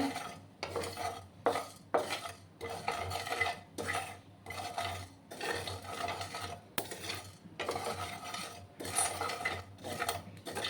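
Spices are dry roasted in a pan and stirred with a utensil, making a repeated scraping, rattling rhythm of steady strokes against the metal, close and fairly quiet, with no talk.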